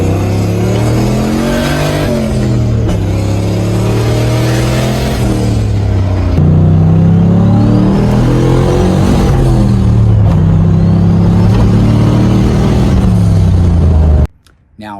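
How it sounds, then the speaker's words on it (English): A turbocharged car's engine revs loud and close, climbing in pitch through each gear, dropping at the shift and climbing again, over several full-throttle pulls before cutting off abruptly. "take those two videos and put them one right after the other right now. And then that way you can actually hear the difference."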